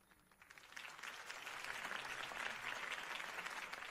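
A crowd in Batman: The Telltale Series applauds Harvey Dent's campaign speech, the clapping rising from a softer start into sustained, fairly distant ovation without speech.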